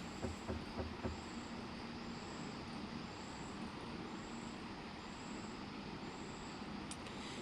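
A heavy truck engine labours uphill at night in a truck driving simulation game, a low continuous rumble with a faint repeating beep and a few brief clunks near the start, no speech.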